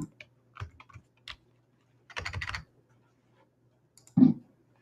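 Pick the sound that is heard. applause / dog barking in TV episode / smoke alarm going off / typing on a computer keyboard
typing on a computer keyboard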